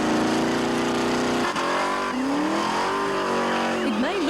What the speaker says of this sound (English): a genuine nitro-burning, tyre-smoking drag car set to debut at Calder Park this Friday